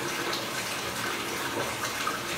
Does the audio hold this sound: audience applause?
no